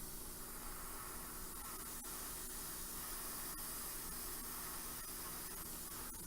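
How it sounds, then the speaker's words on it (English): Aerosol spray can held above Aeldari Harlequin miniatures, spraying straight down for a zenithal highlight: a steady, close, continuous hiss running unbroken throughout with no talking. "I'm just going to spray straight down at them."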